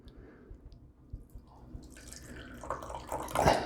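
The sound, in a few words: liquid being poured off into a container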